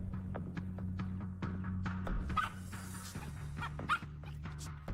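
A small dog on a walk, giving a few short yips and whimpers over a steady low engine-like hum, brief and fairly close, with no talking.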